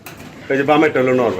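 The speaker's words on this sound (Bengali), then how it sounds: "এটা হচ্ছে শ্যালো কবুতর" Shallow fancy pigeons, one a blue barless male and female pair, give a short close, loud coo: a low warbling call swelling in two or three pulses after a brief quiet start.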